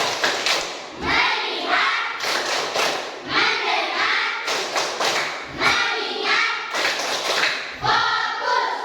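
A classroom of children performs a rhythmic focus clap, with bursts of clapping in a repeating pattern of roughly one per second, near and loud, with no talking.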